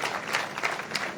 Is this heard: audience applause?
yes